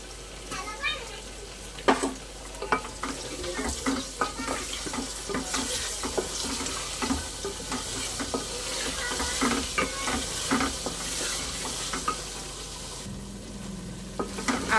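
Ginger-garlic paste fries with potatoes and onion in a pan for vegetarian khichuri, crackling steadily while a spoon stirs and scrapes in frequent close, uneven strokes and a splash of water or running tap sounds beneath.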